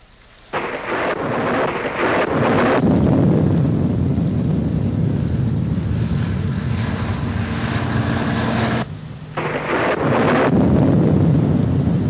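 Heavy thunderstorm with lightning and strong wind: a loud, continuous roar of thunder and gusting wind, briefly dipping near the end before surging again, with no voices over it.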